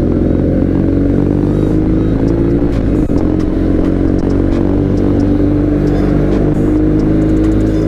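A BMW R nineT motorcycle with a boxer engine runs loud and close, holding a steady, throaty drone with slight rises and dips in revs, and no voices.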